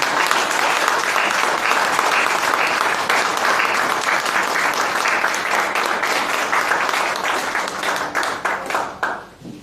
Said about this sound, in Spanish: Dale un fuerte aplauso a nuestro Señor